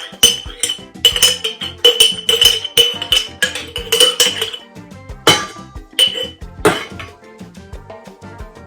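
A spoon clinks rhythmically against a bowl while barbecue sauce is stirred into beef broth, quick repeated ringing taps that pause now and then before resuming.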